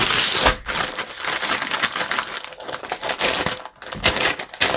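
A Temu package is cut open with scissors, producing loud, close crinkling and crunching of plastic wrapping in dense bursts with brief pauses, no talking heard.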